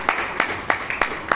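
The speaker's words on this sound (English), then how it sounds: "Let's give another big round of applause." Applause at a Bangalore Toastmasters meeting comes as a short run of sparse, evenly spaced claps, about six sharp hits at a steady rhythm, moderately close and fairly quiet.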